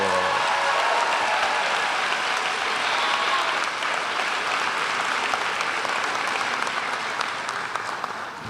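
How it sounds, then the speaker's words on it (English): A high school graduation crowd in New York applauds the class of 2024, a long, loud and steady burst of clapping that tapers slightly toward the end. "A round of applause for the class of 2024"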